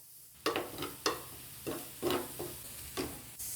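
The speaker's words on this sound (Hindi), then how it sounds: "स्पाइसेस को हम मिक्स करेंगे" A spoon stirs spices through minced meat keema in a pan, giving about six soft scraping strokes over a faint sizzle, close and quiet.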